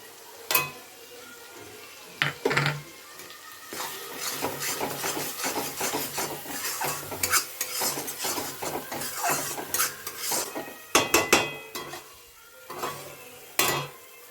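Ground poppy seed and mustard paste added to a pan for pomfret tel jhal, then stirred and fried. Repeated scraping and clattering of the utensil over a low sizzle, with a few sharper knocks.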